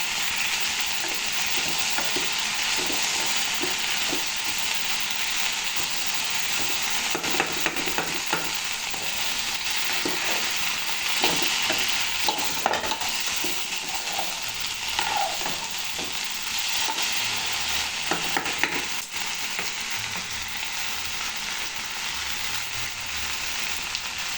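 Sliced okra fries in a pan with a steady, bright sizzle, broken by repeated scraping and clattering stirs, with no voices.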